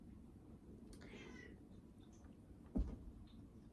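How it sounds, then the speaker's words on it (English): A cat meows faintly outdoors, a brief distant call or two heard indoors against a quiet room tone, with a small knock partway through. "Sounds like there's a cat outside."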